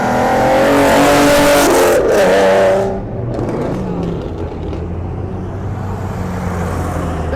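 Car doing a burnout at a car meet: a loud, close engine roar with revving and tire squeal that cuts off sharply partway through, leaving a lower idle rumble and crowd noise behind.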